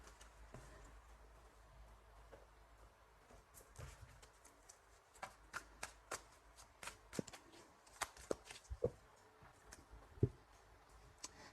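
Tarot cards being shuffled for a reading, a faint, close patter of soft riffles and light taps growing more frequent toward the end.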